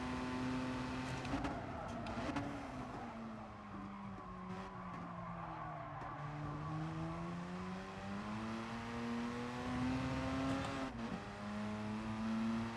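A race car engine in the Gran Turismo Sport racing game holds a loud, sustained note. The pitch sinks and then climbs back as the car revs under load, and tires squeal in places.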